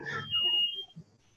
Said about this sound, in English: we'll just ignore that. I think it's a false alarm.